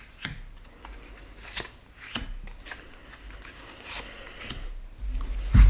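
Tarot cards are shuffled and drawn by hand, with soft scattered riffles, slides and snaps up close, quiet and irregular, without speech.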